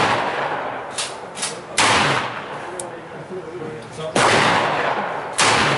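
A Korth revolver fires several sharp, loud shots at irregular intervals, each a sudden blast with a brief echoing tail, mixed with quieter handling noises and someone talking.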